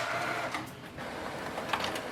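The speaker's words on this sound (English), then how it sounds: "right now we can clearly see it's just printing the blank pages" A Canon Pixma G5020 inkjet printer with clogged ink runs while printing blank pages, giving a continuous mechanical whir with rhythmic clicks and a loud knock near the end.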